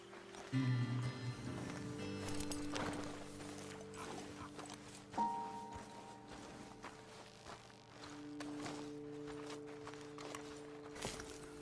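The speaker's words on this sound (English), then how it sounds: "Okay, let's dismount here. Best leave the horses back a bit." Horses in Red Dead Redemption 2 clip-clop at a walk, faint and steady under sustained tonal game music and ambient sound, with occasional louder thuds and no speech.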